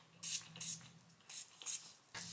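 Aerosol spray hisses onto a wig in four or five short bursts, each about a quarter second long, separated by brief pauses, close and fairly loud against a quiet room.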